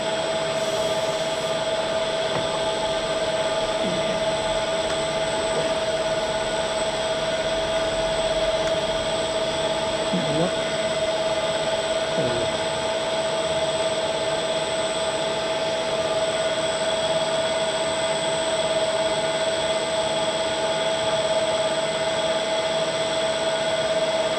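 A David Brown tractor engine idles steadily at about 800 RPM, a constant droning hum with a strong tonal whine, close and continuous for the whole stretch with no talk over it.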